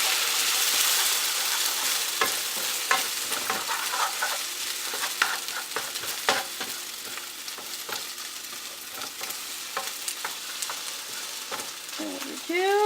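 An egg sizzles and crackles steadily in a hot pan with potatoes, a dense, continuous fry with occasional sharper pops and scraping stirs close by, no talking.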